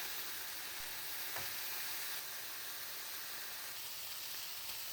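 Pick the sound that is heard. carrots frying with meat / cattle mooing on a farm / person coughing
carrots frying with meat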